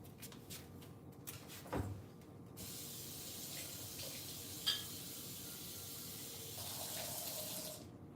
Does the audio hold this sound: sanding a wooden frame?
no